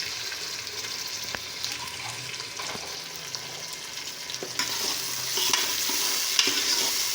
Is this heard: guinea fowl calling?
no